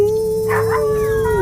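Several dogs howl together in a midnight movie scene, a long, steady, loud wail held throughout with no talking.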